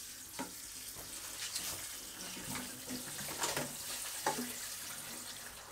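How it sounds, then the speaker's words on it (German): Water from a watering can pours into a potted houseplant set in mineral substrate for self-watering, a steady close splashing trickle with small irregular gurgles and bursts throughout, no talking. "also können wir noch Wasser einfüllen."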